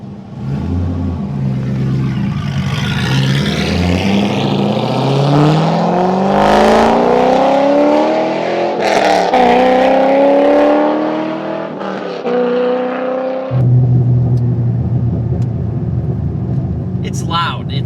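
A C5 Corvette fitted with Speed Engineering headers roars loudly, its exhaust rising and falling through gear changes as the engine revs up repeatedly, close and dominant, settling to a deep idle rumble near the end.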